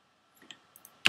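A computer mouse clicks during Pro Tools voice editing: a few faint, light ticks in a quiet room, then one crisp, louder click close to the mic, with no speech.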